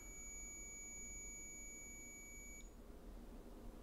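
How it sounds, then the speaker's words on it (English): An electronic alarm sounds a steady high-pitched tone for a few seconds, then stops abruptly, quiet against a low background rumble. "Alarm's going off again."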